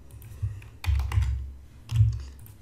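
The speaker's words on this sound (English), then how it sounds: "I'm just typing in all the different days essentially that we want to look at information by." Typing on a computer keyboard while entering data into Power BI: a few close bursts of quick key clicks separated by short pauses, with no talking.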